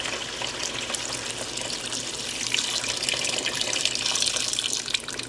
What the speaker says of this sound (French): Là, je vais aller ajouter de l'eau.